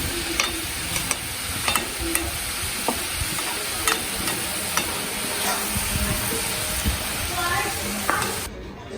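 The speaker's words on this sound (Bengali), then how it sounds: "ওকে এক পিস এখন ভেজে দিই" A piece of food frying in hot oil, a loud continuous sizzle with recurring sharp pops and crackles and scraping stirs, with a voice talking briefly over it before it cuts off at the end.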